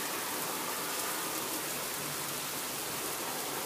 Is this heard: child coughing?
no